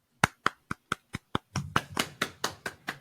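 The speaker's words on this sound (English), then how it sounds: "Like, golf clap." Slow, deliberate hand claps in the manner of a polite golf clap: about a dozen evenly spaced sharp claps, the later ones fuller and more resonant, close and fairly quiet with no voices.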